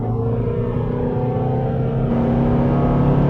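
Diesel engine of a Volvo XC60 SUV revving at about 4,500 rpm, heard from inside the cabin as a steady, fairly subdued hum and drone that holds constant for a few seconds with no talking.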